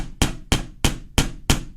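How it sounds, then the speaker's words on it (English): Five crisp, evenly spaced blows from a small hammer pounding copper wire flat on a steel bench block, close and bright with a short metallic ring after each strike. "And I'm just going to hammer it"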